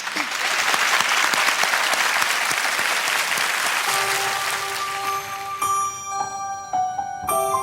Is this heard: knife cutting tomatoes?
no